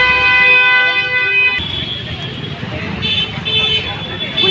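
Vehicle horns honk in busy traffic near a small flooded bridge: a long sustained horn blast fills the first part, then fainter toots and road noise follow, with people talking faintly in the background.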